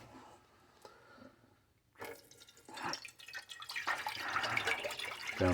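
Water from a kettle pours into a jug for dyeing plastic action figures. A few drips come first, then a close, growing splash and gurgle that gets louder as the jug fills, with no talking.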